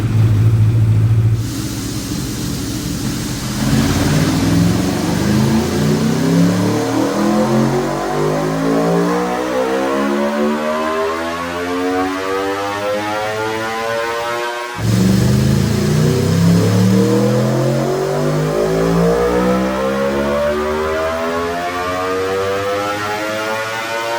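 Aprilia RSV4 motorcycle with a BT Moto stage 2 exhaust and tuning, revving on a dyno: two loud, sustained runs climbing steadily up through the gears, the engine note rising in pitch with a brief drop between pulls.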